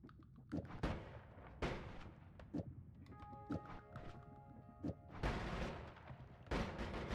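Rapid wand spell fire in the roguelike game Noita, a bullet-hose stream of sharp percussive shots and thunks in quick bursts with brief pauses, fairly close and punchy.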